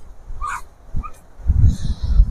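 A dog barking and yipping in short bursts, a couple of higher yelps early on followed by lower thumping barks, close and fairly loud.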